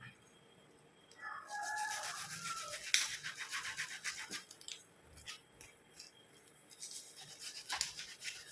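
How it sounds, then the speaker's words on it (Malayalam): A knife cuts the head off a hamour fish, making repeated scraping, rasping strokes that start after a quiet second and continue with uneven rhythm, close and fairly soft, with no voices. "തല കട്ട് ചെയ്ത് ചെയ്തെടുക്കാം"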